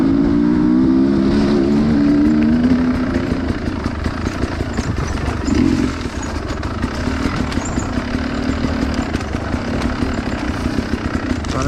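A 2021 Sherco 300 SE dirt bike with a carburetor runs with a steady engine drone, a brief higher rising tone at the start, and a sustained loud rumble throughout with no talk.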